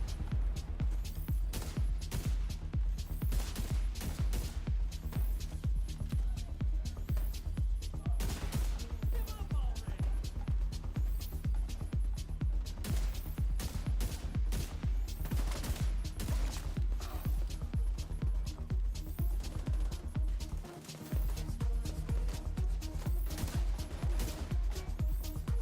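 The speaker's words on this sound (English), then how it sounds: "The turrets are annoying too." Enemy turrets in The Division 2 fire in rapid, continuous bursts of gunfire, loud and dense across the whole stretch, with a brief gap near the end.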